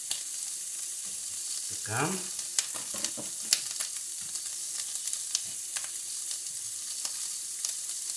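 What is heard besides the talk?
frying karnache sausages in a pot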